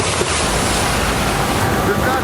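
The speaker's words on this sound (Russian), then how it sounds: "Волны высотой с двухэтажку влетают в прибрежные жилые районы." Storm-driven sea waves, some nine metres high, surge onto a coast with homes along the shore, making a continuous loud roar of crashing surf with heavy wind buffeting the microphone.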